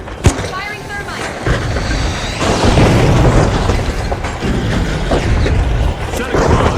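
Thermite is fired in The Finals arena shooter, opening with a sharp close pop and swelling into a sustained, roaring burst with crackling hiss. Shouted voices come through partway.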